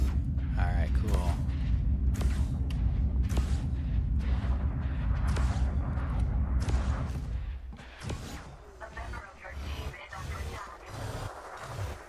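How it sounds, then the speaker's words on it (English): Spaceship gunfire in Elite Dangerous, a rapid series of sharp mechanical shots and thuds over a heavy low engine rumble that drops away midway, leaving scattered crackling impacts. "Who's shooting at my friend?"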